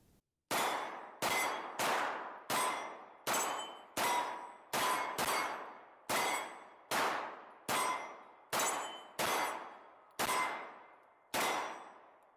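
A Springfield Echelon 4.0C pistol firing at steel targets outdoors: about fifteen sharp shots at an uneven, fairly quick pace, each with a ringing metallic clang that rings out and decays before the next.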